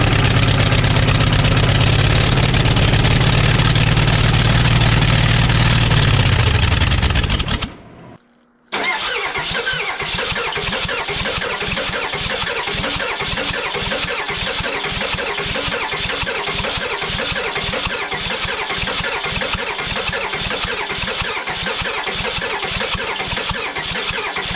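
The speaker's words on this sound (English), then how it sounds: "Seems like that sandblasting sand finally wiped out enough compression from the last remaining healthy cylinders to where it wouldn't fire up anymore." An engine dosed with abrasive sandblasting sand roars loudly for about eight seconds, then cuts out abruptly. After a short silence, a starter cranks it in a long, fast, rhythmic churn that never catches.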